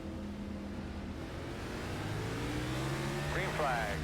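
Race car engines drone and rev up at Martinsville in a sim-racing league playoff race, heard at moderate volume beneath team radio chatter.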